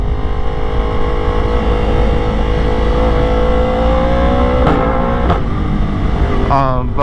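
Loud Yamaha R1 motorcycle engine droning steadily at high idle, with pitch shifts and a couple of sharp blips near the end; the engine note stays close and dominant throughout.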